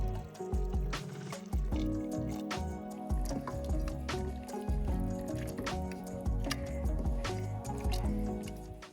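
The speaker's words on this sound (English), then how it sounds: "Now I'm going to add in my nettles." Stinging nettles tipped into a pot of liquid give soft wet squishes and drips, a steady close run of small splashes with no voices.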